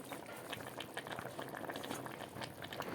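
Curry broth bubbles at a vigorous boil in a pot after fried chapila fish go in, a dense continuous bubbling and gurgling heard close up, fairly soft and steady throughout, with no talking.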